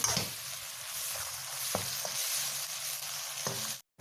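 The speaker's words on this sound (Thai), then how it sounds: "น้ำตาลทรายหนึ่งช้อนโต๊ะ ผัดเข้าไปค่ะให้เข้ากัน" Spring roll filling stir-fried with a spoonful of sugar in a hot pan: a loud, continuous close sizzle with a few sharp scraping strokes of the spatula, cutting off abruptly near the end.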